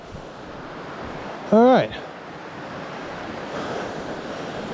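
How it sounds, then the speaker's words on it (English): Steady rushing of river water flowing near a sandy campground beside a hiking trail, a broad constant wash with wind buffeting the microphone, briefly interrupted by a short spoken voice. "Made it down to the river."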